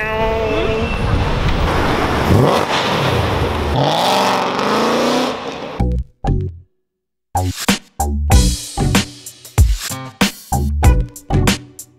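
A loud Bugatti Chiron engine roars and revs as it sweeps past close by on a London street, followed by sharp bursts of revving and exhaust pops after a brief pause.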